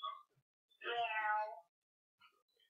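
A person imitates a cat with one drawn-out, wavering meow of about a second, close and fairly loud, framed by short faint vocal sounds before and after.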